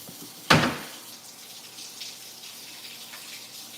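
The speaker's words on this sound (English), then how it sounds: "Now I'm gonna get some warm water." Water gushes from a tap with a sudden burst, then settles into a soft, steady stream running nearby.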